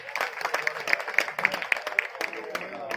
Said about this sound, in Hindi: एक बार जोरदार तालियां man of the series Girjesh जी के लिए।